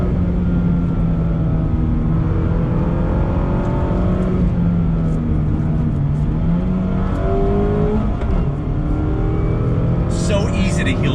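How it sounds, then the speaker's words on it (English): A 2020 Mazda MX-5 Miata Club pulls hard in second gear on full throttle, with engine revs climbing in rising sweeps and a brief shift. The engine is loud and continuous, and a voice talks over it throughout. "2nd gear, on throttle, just let the R's climb."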